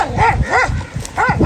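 A dog barks three times in a loose rhythm, close and loud, amid an outdoor scene where men are urging animals on.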